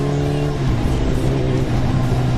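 A Kawasaki ZX-10 sportbike engine droning steadily while being ridden, a loud continuous tone with harmonic hum that holds near constant, slight revving shifts and no voices.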